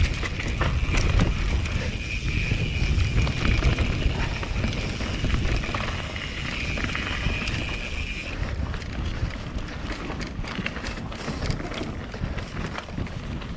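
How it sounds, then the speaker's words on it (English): Wind roars and buffets a microphone continuously, a rough, gusty rush with faint rattling under it and no pauses. "It's a bit windy today."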